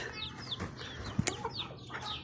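Hens cluck softly in short, scattered calls near young growing chicks, with a few sharp higher chirps mixed in, close and fairly faint, without any talking.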